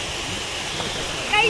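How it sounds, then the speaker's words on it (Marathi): A small waterfall in the Konkan countryside gives a steady, close rush of splashing water that runs unbroken, with a brighter splash near the end. "धबधबा आमचा छोटासा झालेला आहे"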